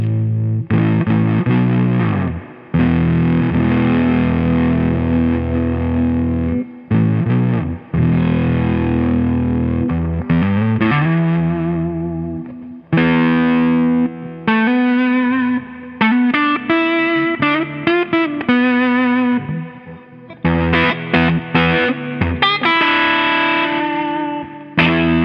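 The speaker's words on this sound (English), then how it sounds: "what this fuzz sounds like into the amp" Electric guitar played through a fuzz pedal into an amplifier with the amp's built-in spring reverb: thick distorted chords and sustained notes ring out loudly, with short breaks and sliding bends over a long continuous passage.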